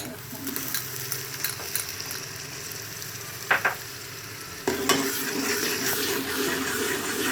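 Steady sizzle of light-brown onions frying in a pan with a brief scrape of stirring midway, then a louder burst of sizzling as ginger-garlic paste is added.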